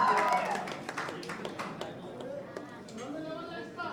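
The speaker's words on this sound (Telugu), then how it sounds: "గట్టిగా చప్పట్లు కొట్టండి మన యూనివర్సల్ ఆంటీకి." An audience at a Telugu movie pre-release event claps, a spread of crowd applause with sharper individual claps popping out, gradually thinning while voices and chatter carry on underneath.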